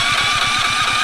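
A petrol generator engine runs with a rough, loud, pulsing chug, close by and steady through the short burst, its rhythmic thumping under a harsh mechanical hiss.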